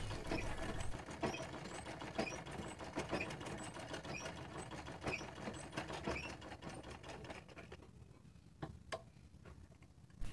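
Sewing machine stitching a blouse drawstring a second time, a quick rhythmic mechanical whirr with clicking that runs steadily and slows near the end, no talk.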